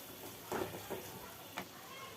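Powdered spice masala stirred into lemon pickle in a pan over a low gas flame gives a quiet, steady sizzle with a few soft scraping stir strokes.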